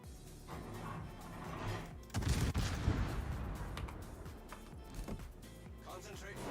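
Warship guns fire in World of Warships, a heavy booming salvo landing around the middle amid ongoing game noise, with a few smaller thuds after and speech underneath.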